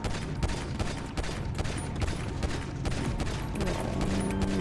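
Gunfire in the video game GTA 5, a dense, continuous burst of shots running the whole stretch at steady loudness, with busy game noise mixed in.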